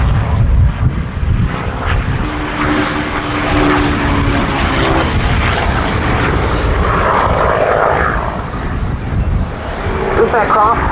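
A North American P-51D Mustang propeller fighter flies at an air show with a loud, continuous engine drone that swells and shifts in pitch as it passes, while an announcer talks over it.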